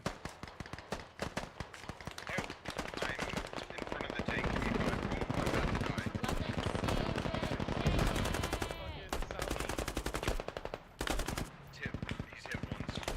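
Machine gun fire in the military shooter game Squad, loud sustained rapid bursts nearly continuous across the clip, with brief gaps toward the end.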